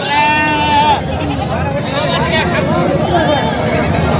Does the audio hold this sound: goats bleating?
yes